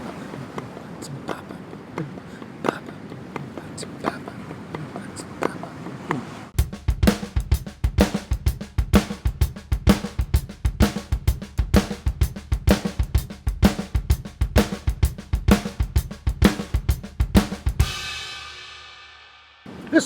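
A single bass drum shuffle groove on drum kit with a quarter-note hi-hat, ghost notes and snare backbeat. A lighter hand pattern opens it, then a loud, driving groove with steady kick thumps runs and ends in ringing cymbal decay.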